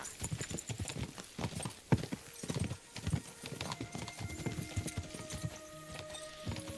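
Rapid, continuous hoofbeats of galloping horses clatter throughout, with a few sharper thumps, in a busy soundscape from the video game Kingdom Come: Deliverance II.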